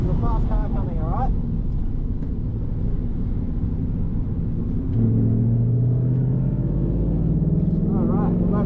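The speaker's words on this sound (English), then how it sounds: "there's a fast car coming" Steady engine rumble of a Ford Mustang lapping The Bend West Circuit, with another fast car drawing closer and the pitch rising toward the end, under occasional talk from people in the cabin.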